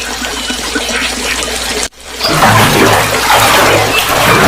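Splashing water as a crow bathes in a cartoon: a steady wash of watery noise, a brief drop to near silence midway, then a louder, fuller spray of water with no talking.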